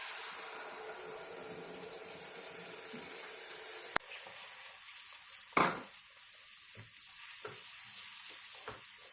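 Curd stirred into hot oil with coriander, turmeric and red chili powder over lowered heat, giving a steady broadband sizzle with a sharp clatter of a spoon partway through and scattered stirring scrapes, with no talking.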